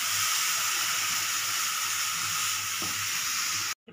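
Roasted coconut being stirred with a paan, sugar and milk mixture in a pan, a steady close sizzle and hiss of cooking with faint stirring scrapes, no talk, cutting off abruptly at the end.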